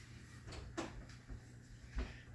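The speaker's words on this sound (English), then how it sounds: "You want to get the oven door for me" Oven door pulled open in a home kitchen during baking, a few soft clunks and a muted creak spread over a couple of seconds against a low steady hum, no talking.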